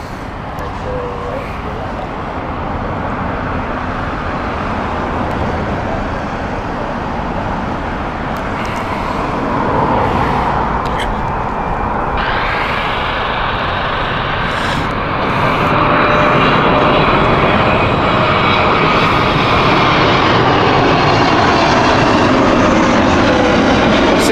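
A departing airliner takes off from Heathrow Airport, its engines a loud, continuous broadband roar that swells as the aircraft climbs away, with a rising whine joining in partway through.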